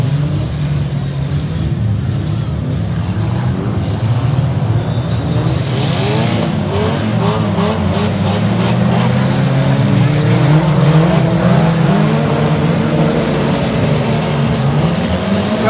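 Super stock cars race on a dirt track at Villabon, engines roaring loudly and continuously as cars pass and rev, with a crowd and announcer faintly beneath.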